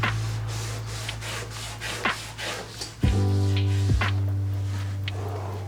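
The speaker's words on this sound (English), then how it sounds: "Just give it a quick wipe on down." Several brief rubbing swipes of a cloth across the sprayed body of a red NC Mazda Miata, with a low steady hum underneath and a sharper click partway through.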